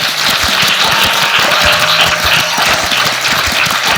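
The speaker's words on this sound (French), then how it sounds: "Ces acclamations, c'était pour t'accueillir" A live worship gathering erupts in loud, sustained cheering and applause to welcome a prophet, forming a dense, unbroken roar of clapping and voices close up.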